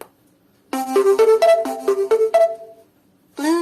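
A cheap Bluetooth speaker gives a loud, clear power-on tune of about eight quick electronic tones in a rising and falling pattern, then a short pause and a final brief chime, alone in a quiet room.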